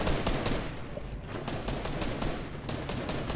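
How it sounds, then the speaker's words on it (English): Video game gunfire crackles in steady bursts, a dense run of shots fairly loud throughout with no one talking over it. "They're shooting over there."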